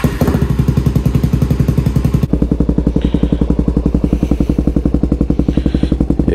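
A Suzuki DRZ400SM motorcycle engine catches and runs right up close, a loud, even, thumping idle throughout with a slight shift in tone partway through.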